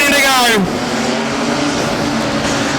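Production sedans race around the Rockhampton Speedway oval, loud engines droning steadily with a rising whine early on, while an announcer's voice runs over the roar.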